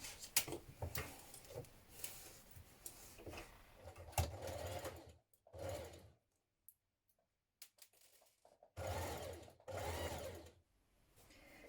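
A sewing machine stitches binding on a summer dress in steady bursts, whirring continuously at first, then stopping and restarting in shorter runs with quiet pauses between.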